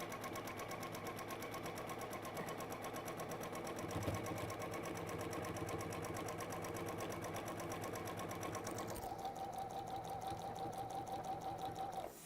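A sewing machine runs steadily, stitching a quarter-inch seam in fabric, its fast rhythmic whir holding an even, close level from start to finish with a slight change in tone near the end.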